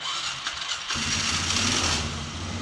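A cold 2002 Polaris Sportsman 400 ATV engine with the choke on cranks and then catches, settling into a steady, loud, near idle that rumbles on without any talk.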